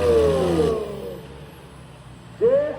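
A tractor engine in a trolley-pulling contest at Katlaur village revs loudly with rising whines, drops back to a low rumble, then surges again near the end.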